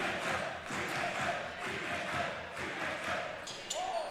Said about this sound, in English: as the crowd gets into it here in Woodstock.